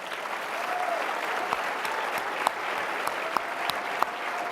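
Steady audience applause fills a political conference hall, a dense continuous wash of many hands clapping at moderate level, with a few sharper claps standing out near the end.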